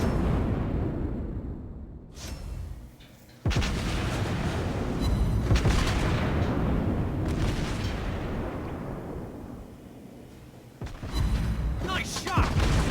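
Naval gunfire from the USS Cleveland cruiser in World of Warships Blitz, heavy booming salvos and rumbling blasts dense across the clip, with a brief lull and a renewed barrage later, loud and close.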